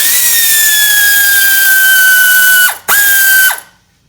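A powered ratchet loosens the bolts on the cover of a zero turn mower, giving a high, whirring spin that winds down, pauses briefly, then runs again before stopping.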